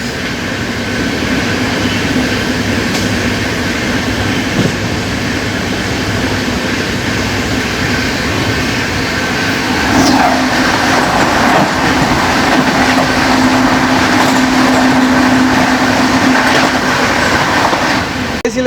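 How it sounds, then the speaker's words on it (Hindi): Andhra Pradesh Express and Tamil Nadu Express passing each other on Indian railway tracks, a steady close rumble of rolling coaches with clickety-clack from the wheels and a brief squeal, growing louder and denser in the second half. "आंध्र प्रदेश एक्सप्रेस सामने से आ रही है तमिलनाडु एक्सप्रेस।"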